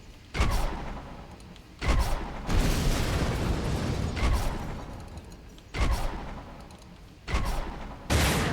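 Repeated heavy weapons fire and booming explosions as orbital patrol vessel turrets are destroyed in a space combat game, loud bursts recurring every second or two over a sustained rumbling roar.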